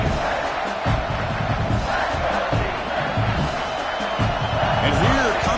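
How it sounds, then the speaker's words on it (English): Stadium crowd in the NCAA 26 football video game roars as a loud, continuous wash of cheering and shouting, with a commentator's voice talking over it. "This crowd is trying to inspire this defense to make a big red zone stop."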